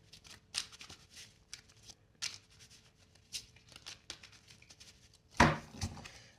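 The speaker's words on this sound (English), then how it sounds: "so I'm going to keep shuffling" Tarot cards being shuffled by hand during a reading, a series of soft papery riffles and flicks repeating irregularly, close and fairly quiet, ending with one sharper louder snap of the deck.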